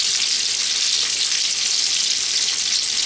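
Lamb chops fry in a CeraPan fry pan with a steady, close, even sizzle that holds at the same level throughout.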